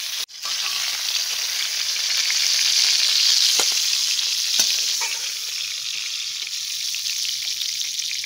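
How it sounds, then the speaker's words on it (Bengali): Pointed gourd (potol) pieces fry in oil, producing a steady, close crackling sizzle that swells slightly in the middle, with a sharp clatter at the start and a couple of faint taps, and no speech. "ঢাকা দিয়ে দিয়ে আমি ভালো করে পটলগুলোকে ভেজে নিলাম।"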